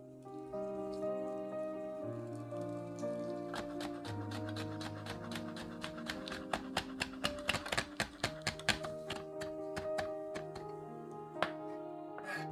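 A knife minces deseeded chili peppers on a cutting board for a Korean seasoned eggplant dish, making quick runs of crisp taps that build toward the middle under steady, sustained background music.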